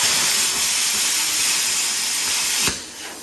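A plasma cutter at 20 amps cutting a corner off steel plate, a loud steady close hiss of air and arc that cuts off sharply near the end, leaving a softer hiss.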